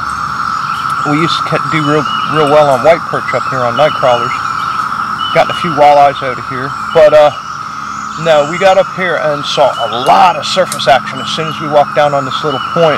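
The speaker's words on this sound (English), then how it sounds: "The 17-year cicadas are out, and I'm sure you can hear them in the background" Chorus of 17-year cicadas during a fishing trip, a constant high droning buzz behind someone talking close up, running steadily throughout under his speech.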